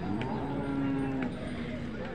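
A calf moos at a bullock market where Khillar bullocks are traded, one drawn-out bellow in the middle of a busy outdoor din, with faint voices in the background.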